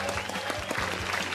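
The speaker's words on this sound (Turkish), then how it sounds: "Alkış." Audience applause at a Turkish-language Christian television talk show, steady dense clapping throughout, close and fairly loud with no talk over it.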